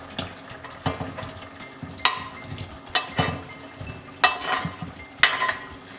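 Gatta dumplings go into a simmering curry in a pan, with the sizzle and bubbling of the sauce and repeated spoon scrapes and clacks against the metal as it's stirred, close and with no voices.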